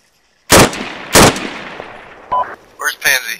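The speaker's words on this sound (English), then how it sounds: "I hear gunfire. They're firing from that forest." Two loud gunshots crack close by in Arma 3 during a hostage rescue mission, followed by fainter distant shots from a forest and a short burst of rapid fire, with a brief voice in between.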